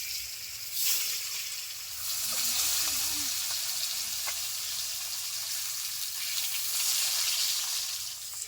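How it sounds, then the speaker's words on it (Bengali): Pangas fish frying in hot oil over medium heat, a steady close sizzling hiss that runs the whole time with small crackling pops and no voices. "এই পাঙাশ মাছগুলো ভেজে নিচ্ছি"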